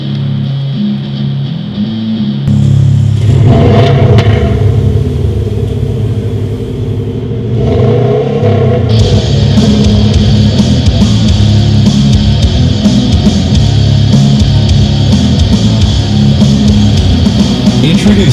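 A 2015 Subaru WRX STI at its auto show reveal, its engine revving in loud rising and falling bursts over a deep, steady rumble, with a busy indoor hall around it.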